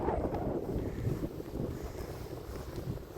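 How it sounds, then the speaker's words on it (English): Strong wind buffets the microphone outdoors on a blustery day where storks are flying, giving a steady, loud, rumbling roar with gusty swells throughout and no speech. "Windy, mate, windy."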